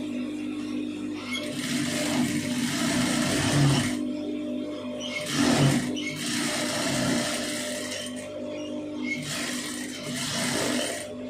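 A sewing machine stitches a blouse seam in three or four steady runs of several seconds each, separated by short pauses, heard up close and alone.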